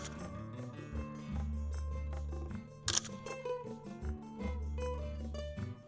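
A Canon AE-1 Program film SLR fires its shutter once, a single sharp mechanical click standing out against a quiet, humming background.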